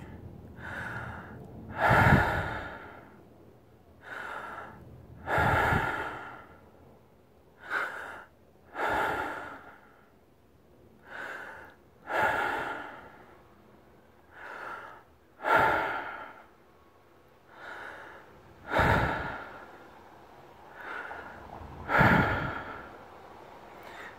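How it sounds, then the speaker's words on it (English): Exaggerated breathing demonstrated beside a ResMed S+ sleep monitor: about ten slow, heavy inhale-exhale cycles, close and loud, evenly spaced and alone with no talk. "I'm going to exaggerate my breath slightly just to give you a demonstration"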